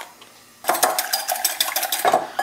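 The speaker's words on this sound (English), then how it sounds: "For the omelette, I'm going to crack 2 eggs" Two eggs for a sugar-cured prawn omelette crack against a bowl in a kitchen: a quiet pause, then a close run of sharp taps and clinks with a brief wet spill, with no one speaking.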